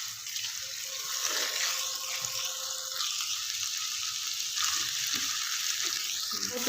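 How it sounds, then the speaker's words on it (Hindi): Finely chopped chicken fries in ginger-garlic paste for Chinese-style chicken fried rice, giving a steady, close hiss of sizzling oil with occasional stirring scrapes throughout. "अदरक लहसुन के पेस्ट में अच्छी तरह से इसको भून लेंगे।"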